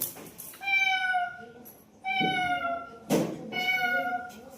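A voice imitates a cat, giving three drawn-out, whiny meows with short pauses between them, close and fairly loud.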